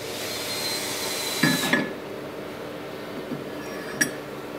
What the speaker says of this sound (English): So we start by putting on the bottom cutter.